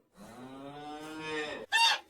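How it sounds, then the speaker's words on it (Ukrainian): A cow gives one long, drawn-out moo up close, ending with a brief breathy snort. "корова з телятами"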